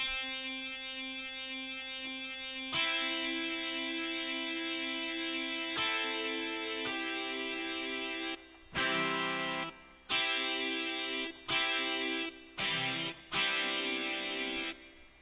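A keyboard playing a distorted electric-guitar patch sounds sustained buzzing chords, first long held tones and then a run of short, choppy stabs separated by brief gaps.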